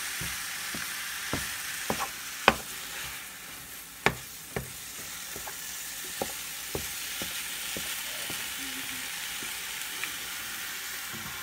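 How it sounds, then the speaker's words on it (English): Ground turkey cooking over low heat in a big pan, giving a soft steady sizzle with scattered sharp clicks and scrapes of a utensil breaking up and stirring the meat. "And you break it apart and cook it on low heat."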